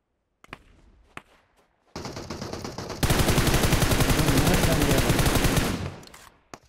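Gunfire in the mobile battle game PUBG Mobile on the Livik map: a burst of noise, then sustained rapid automatic fire with dense even shots for several seconds before it fades out.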